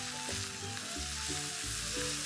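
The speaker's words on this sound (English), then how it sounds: "Let's saute this" Spices and herbs including turmeric powder and coriander leaves sautéing in a pan for a tofu curry, a loud steady sizzle with low rumbling stirs, close and without talk.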